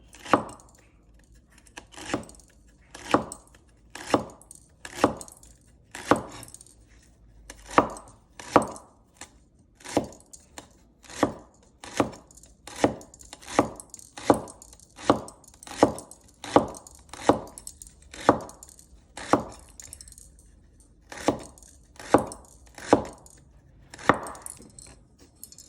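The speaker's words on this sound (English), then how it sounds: "Cut it really, really tiny. Don't cut it too big. Very, very thin, just like that." A knife slices cabbage very thin on a cutting board, giving about three dozen crisp, close chops in a steady, slightly uneven rhythm with short pauses.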